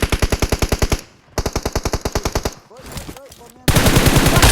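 Automatic gunfire in the mobile battle royale game PUBG Mobile: two loud, rapid bursts of evenly spaced shots, a brief pause, then softer game sounds and a final dense blast of noise.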